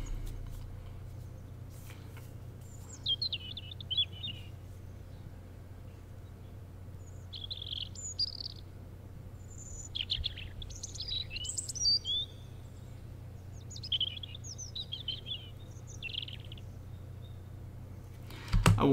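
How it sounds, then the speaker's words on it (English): Cartoon birds in an animated short trade varied chirps and tweets, scattered in short clusters over a steady low hum, each call shaped differently. "I wanted every bird to have like a different chirp to it"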